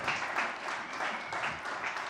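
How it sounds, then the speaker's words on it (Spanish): A church congregation applauding during a Spanish-language service, a soft, steady wash of many hands clapping, somewhat distant and even throughout. "Dese un fuerte aplauso porque su lengua se está activando."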